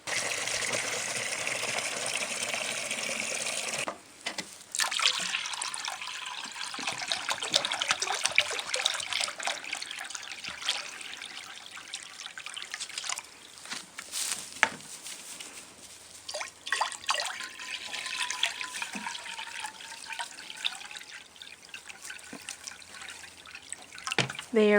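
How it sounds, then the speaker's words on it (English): Water runs and trickles steadily into a rabbit colony's water jug, with splashes and clinks from handling, continuing throughout at close range. "Then their water jug is empty, so let's refill that."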